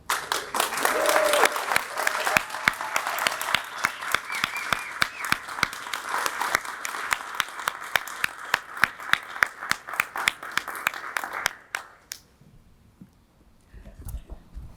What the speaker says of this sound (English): Please join me in applauding the class of 2021 as they depart.